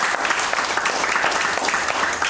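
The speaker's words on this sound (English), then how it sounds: "Give the Lord a hand clap." Church congregation clapping hands together in praise during a worship service, a steady dense patter of many hands filling the room, fairly loud and continuous with no clear talk over it.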